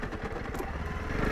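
Honda CRF300L Rally motorcycle engine pulling uphill in second gear on a trail, a steady throbbing single-cylinder drone, close and continuous over a short stretch, no speech.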